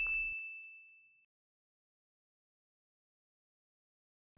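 A single bright notification bell ding, a short clean strike whose tone rings out and fades over about a second, then silence.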